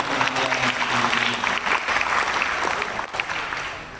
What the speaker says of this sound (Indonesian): Kita beri tepuk tangan satu penghadiran ini.